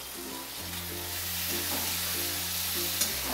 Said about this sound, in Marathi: आता हे चांगलं टमाटर गळेपर्यंत चांगलं हलवून घ्यायचं, मसाला चांगला भाजून घ्यायचा।